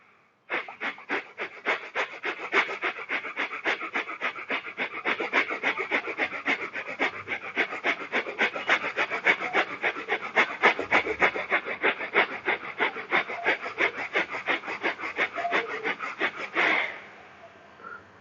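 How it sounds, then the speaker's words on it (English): Rapid forceful exhalations of Kapalbhati pranayama during a yoga lesson, a long unbroken train of sharp, evenly paced breath pulses heard up close, ending with a final longer release. "This is the Kapalbhati pranayam."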